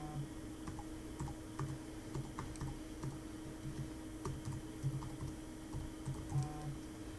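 Login details are typed on a computer keyboard in a quiet room, with irregular clusters of light key clicks and taps over a low steady background hum and no speech.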